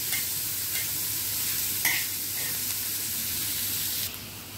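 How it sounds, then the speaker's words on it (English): Onion frying on a hot tawa gives a steady close sizzle with a few soft stirring scrapes before the sound drops off abruptly near the end. No one speaks. "I'm going to fry this onion a little,"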